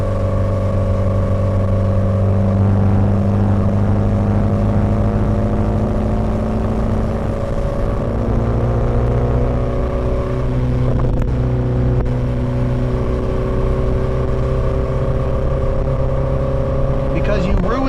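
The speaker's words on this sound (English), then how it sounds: "driving a Maserati, drive it like a Maserati" Maserati car driving and accelerating, a loud steady engine drone with rising and falling harmonic tones throughout, heard from close inside the car with continuous road noise.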